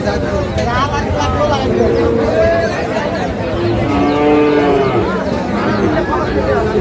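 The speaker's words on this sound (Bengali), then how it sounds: "আরও গরু আছে" Cattle at the Ambari market, among them Sahiwal-breed bulls and calves, lowing repeatedly, with several overlapping moos rising from a loud, continuous crowd babble of people talking.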